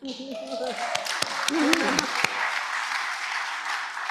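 Audience applause at an all-candidates election debate in the Esquimalt-Colwood riding, a sustained wash of many hands clapping. It swells in after a voice speaking at the start and continues steadily to the end.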